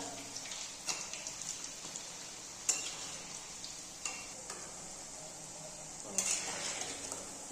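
Bondas deep-fry slowly in oil with a soft, continuous bubbling sizzle, broken by occasional sharper crackles and a few light clinks of a utensil against the pan.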